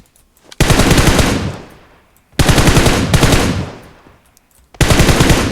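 Automatic gunfire in the video game PUBG Mobile comes in three long, loud bursts, each rattling rapidly for about a second and a half before trailing off, with short gaps between them.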